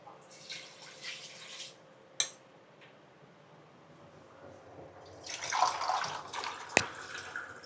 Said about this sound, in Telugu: దీంట్లోనే ఇప్పుడు ఎసుటికైతే నీళ్ళు పోసుకుందాం.